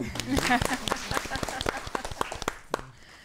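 An audience at a community gathering claps together in a brisk, uneven burst of sharp hand claps, with a voice speaking over them as the applause fades.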